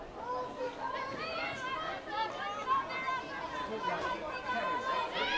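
Spectators at a women's hockey plate final in Glasgow, with a lively, fairly distant crowd chatter and excited calls rising and falling throughout, mixed with overlapping voices.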